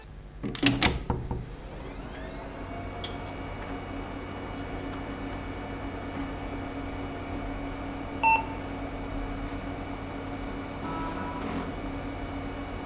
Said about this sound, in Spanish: Ese pitido y el sonido de la disquetera, que más de uno hemos escuchado durante años día tras día.